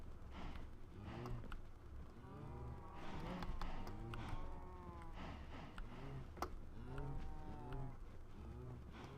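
Cows moo repeatedly in the video game Minecraft, low, drawn-out calls, several overlapping, with a faint buzzing of flies in the background.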